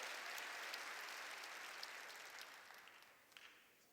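Church congregation applauding during a sermon, a broad, dense roar of many hands in a large hall that starts full and gradually fades over several seconds, with no speech on top.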